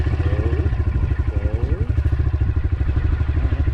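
A 2020 Honda CRF125F engine putters with a fast, even pulsing thump as a little throttle is applied, close and loud, with a voice speaking briefly over it.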